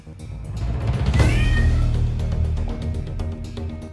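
A cat gives a single drawn-out meow, close and clear, over a steady bed of background music.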